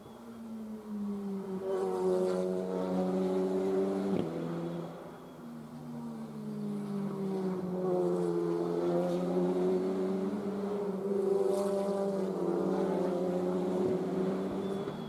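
FR Americas race cars on the front straightaway, engines rising in pitch through the gears with a clear drop around the middle, steady and moderately distant.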